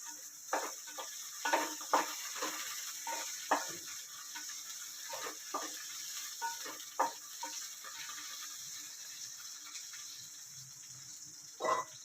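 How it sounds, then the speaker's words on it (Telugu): Green chillies frying in oil produce a quiet, steady sizzle broken by irregular crackling pops and spatters, some sharper than others, close and fairly faint. "మనం పచ్చిమిర్చిని వేయించుకోవడం"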